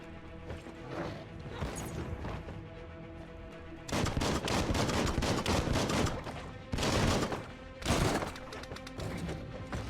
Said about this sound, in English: so that's jumping and shooting